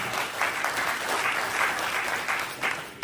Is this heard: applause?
yes